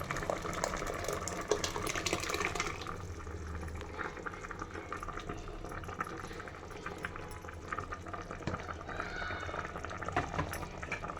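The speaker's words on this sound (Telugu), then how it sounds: "ఇప్పుడైతే ఇది ఉడుకుతాను." Anapa ginjala pulusu, a curry with masala and water, boils in a pot with a steady bubbling and hissing simmer. It stays fairly quiet and continuous, with no talking.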